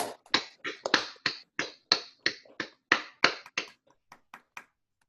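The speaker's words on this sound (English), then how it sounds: "I wonder if we can all unmute ourselves and give her a round of applause." Unmuted participants on an online call applaud after an academic talk, producing a string of separate, sharp claps that thin out and fade over a few seconds.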